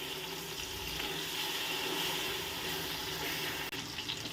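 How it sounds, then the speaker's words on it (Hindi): Garlic ginger paste frying in a pan for chana pulao, a steady, close, wet sizzle that holds evenly throughout with a faint stir near the end. "लहसुन अदरक को मैंने अच्छे से भून लिया।"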